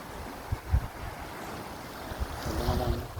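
Waves washing and breaking in the open air, with wind rumbling across the microphone and the surf swelling louder toward the end.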